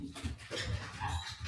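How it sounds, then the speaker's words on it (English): A dog whimpers and whines in short, fluttering cries, wanting to go outside, heard close up and fairly loud for a brief moment. "My dog needed to go out really bad."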